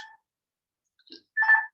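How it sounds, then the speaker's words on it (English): A mobile phone rings with brief electronic tone bursts, a short chirp followed by a louder, longer tone, in an otherwise silent room. "My phone's going, so we'll just wait and see what happens."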